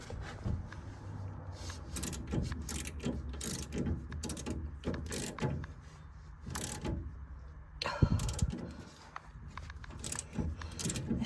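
Metal clanks, ratcheting and tool clicks come from work on a stuck nut in a car steering rack, an irregular close series of taps and scrapes with a sharper knock near the end.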